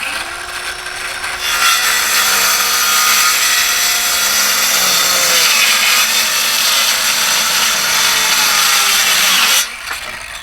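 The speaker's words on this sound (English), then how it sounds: "So the first step is to cut it to custom length, obviously." A power saw cutting a shelf board to custom length in a workshop, a loud steady buzzing cut lasting about eight seconds before stopping abruptly, close and alone with no talk.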